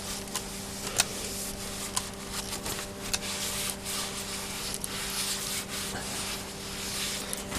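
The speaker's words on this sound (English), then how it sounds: "Wipe off any excess on the shaft." A cloth or rag rubs along the shaft of a Winter C1518 antenna rotator during reassembly, making steady soft close-up scrubbing strokes with a few small clicks over a constant electrical hum.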